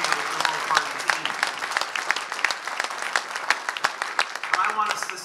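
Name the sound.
audience applause for the Ontario Liberal Party team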